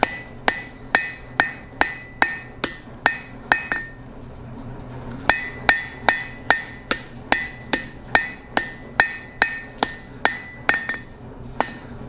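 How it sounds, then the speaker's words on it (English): Light hammer blows planish a medium carbon steel center punch on an anvil, a steady run of ringing metallic strikes with a short pause partway through, close and clear with no talking. "I'm giving it relatively light hammer blows"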